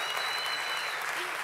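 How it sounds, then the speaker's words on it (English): Steady applause from a startup competition audience at a tech conference, a dense continuous wash of clapping that stays loud and even from start to finish. "So clap, stomp your feet, whistle"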